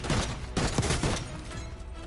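A short burst of gunfire in the Black Ops 6 campaign, with a few heavy, close shots in quick succession followed by a duller trailing rumble of distant fire.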